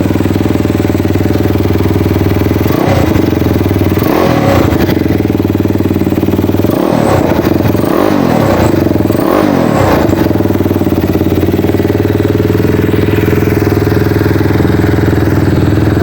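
A Megelli 250cc Gen 2 motorcycle engine idles steadily up close, then revs in several sharp bursts, with a cluster of quick throttle blips in the middle before settling back to a steady idle.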